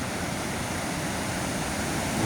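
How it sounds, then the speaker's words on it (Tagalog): Large ocean waves churned up by Typhoon Kristine make a steady, unbroken roar of surf, loud and close, with no talking. "Dahil grabing alon guys"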